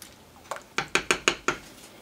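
Garlic and sweet onions being stirred into a soup pot, with a utensil giving about six sharp clinking scrapes against the pot in quick succession, close and fairly loud.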